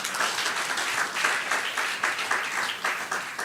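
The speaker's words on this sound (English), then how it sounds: "Please give him a round of applause." Steady audience applause fills a conference hall at an African healthtech event, a dense wash of many hands clapping at moderate distance, sustained evenly without any speech.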